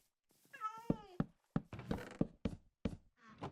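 Several cats in a survival video game meow in quick succession, close and clear, mixed with short thunks and taps between the calls.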